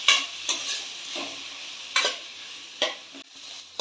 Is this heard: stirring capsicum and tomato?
yes